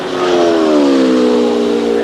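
A 1978 Indy 500 race car, number 69, roars past during a qualifying time trial, its loud, strained engine note sliding steadily downward in pitch as it passes close by and fades slightly.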